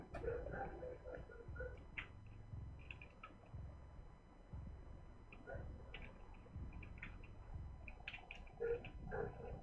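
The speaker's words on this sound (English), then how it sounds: "My dog is barking." A pet dog barking and whimpering faintly in the background, a few short yips and bursts spread across the clip under low room noise.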